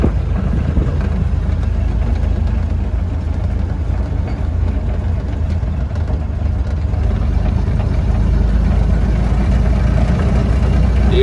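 A 1931 Ford Model A pickup engine runs at a steady low drone, a loud continuous rumble heard close up from a drive near a golf course.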